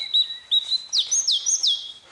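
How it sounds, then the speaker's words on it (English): A robin singing close by, a short phrase of high, thin whistled notes and quick sliding trills, clear and fairly loud against a quiet background. "Robin, robin. This is a robin."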